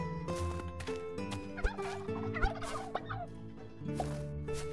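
Turkeys gobble in the farming video game Travellers Rest, a flurry of rapid warbling gobbles layered over steady game music and chimes.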